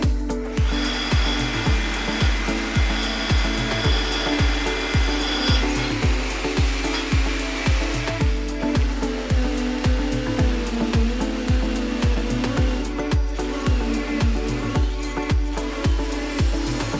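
A Makita HR2450 SDS Plus hammer drill runs with a steady, rapid hammering pulse that repeats evenly and loudly, close up, for the whole stretch without any talk.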